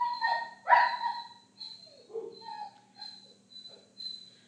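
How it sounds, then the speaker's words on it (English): An agitated dog barks and yips in a run of short, high, whiny bursts spaced about every half second, fairly close and alone. "Just ignore my dog from freaking out."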